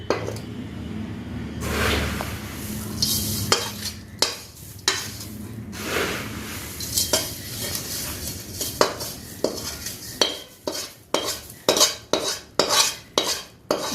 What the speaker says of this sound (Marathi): आणि हा व्यवस्थित असा एकजीव करून घेऊया मसाला